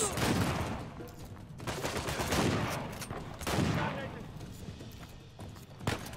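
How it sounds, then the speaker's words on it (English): Shotgun blasts in Uncharted 4, several loud booming shots with sharp attacks spread across a few seconds amid dense game noise, with a player talking over them. "Fucking love shotguns. Shotgun to the face!"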